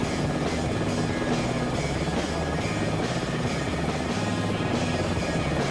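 An MV-22B tiltrotor aircraft flies in the video game Microsoft Flight Simulator 2024, its continuous rotor thrum and engine drone holding steady with a rhythmic pulsing beat and no voices.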